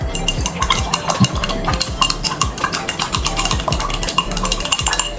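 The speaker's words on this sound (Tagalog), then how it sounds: "Stir it." Ethanol being stirred into water in a lab vessel, a quick rhythmic run of scraping, clinking strokes from a stirrer against glass, close and continuous with no talk.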